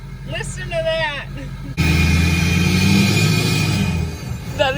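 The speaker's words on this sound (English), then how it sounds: "this is the loudest stack exhaust head that you can get on the market" A diesel truck fitted with a loud aftermarket stack exhaust revs up, a sudden, heavy, sustained roar close to the microphone, with someone speaking briefly just before it.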